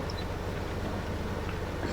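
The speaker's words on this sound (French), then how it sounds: "C'est chez qui que j'entends le tracteur?" A steady, low mechanical engine drone with a regular pulsing throb runs throughout at constant loudness, like a distant tractor idling, in a video game.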